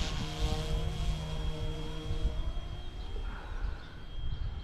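An Eachine E186 Bell 206 RC helicopter flies outdoors in the wind, giving off a thin, steady high-pitched whine under a constant whirring rotor buzz. The sound stays moderately near throughout.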